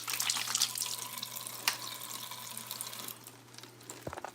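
Tap water runs steadily into a kitchen sink during rinsing, a close, even hiss with a faint hum beneath that eases off near the end.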